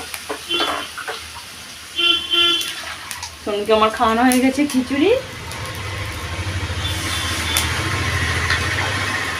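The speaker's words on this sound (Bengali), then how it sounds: "সবসময় দেখবে ফোনেতে শুনতে পাবে ওই গাড়ি যাচ্ছে, ওই গাড়ি যাচ্ছে" Vehicles pass on a road right beside a house, a low rumbling wash that swells and holds through the second half, blending with kitchen frying noise after someone speaks briefly.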